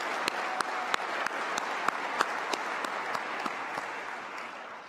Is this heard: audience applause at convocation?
yes